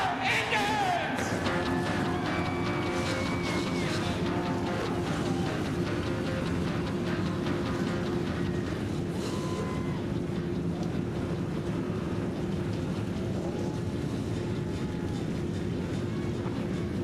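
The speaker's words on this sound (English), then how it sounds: "Gentlemen, start your engines!" NASCAR stock car engines at Irwindale starting up and idling together, a loud sustained low rumble and drone from many cars that holds steady throughout.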